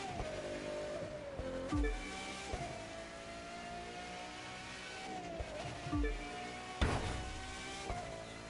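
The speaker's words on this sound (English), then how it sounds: "This car sounds pretty awesome. Nice Pagani V12." A Pagani Zonda R's V12 in The Crew 2 racing game howls loudly and continuously, its pitch climbing through each gear before dropping sharply at upshifts several times, with brief tire-like squeals mixed in.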